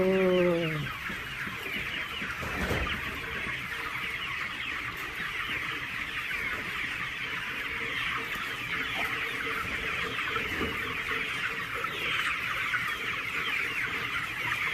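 Hens cluck steadily around laying time, a dense continuous chorus of overlapping clucks and squawks from a nearby flock, with no voices standing out.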